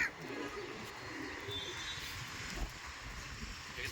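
Pigeons at a pigeon market for red Giribaj birds coo softly amid a busy, murmuring background, with faint chirps scattered through the few seconds.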